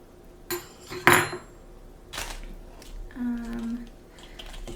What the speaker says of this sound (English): this is just a mixing spoon that I have